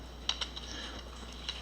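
Computer keyboard typed in short bursts of a few close, light key clicks over a steady hum, entering code.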